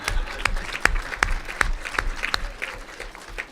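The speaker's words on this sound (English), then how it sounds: "I will pause now while you clap." Scattered applause from a lunch-panel audience, with several distinct sharp claps standing out over a thin background of clapping.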